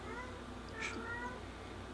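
A cat gives a short meow, moderately close, over steady indoor background hum with faint voice-like sound around it.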